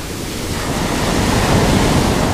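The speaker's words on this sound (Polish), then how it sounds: "Były małe fale, przyszła jedna wielka i mnie zalała." Sea waves breaking on a beach in Spain give a loud, continuous roar of surf with wind noise, close to the microphone and with no voices.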